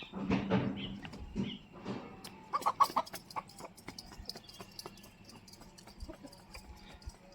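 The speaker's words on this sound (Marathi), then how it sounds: "सगळे आले कोंबड्या" Chickens cluck around a farmyard, with scattered clucks, scratching and hoof-like clopping at close to moderate distance.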